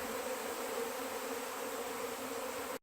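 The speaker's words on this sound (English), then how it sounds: "they're quite busy up in the air at the moment, all around me." Swarm of honeybees flying all around outdoors during a swarm capture, a dense, continuous buzzing drone up close that holds steady without any talk.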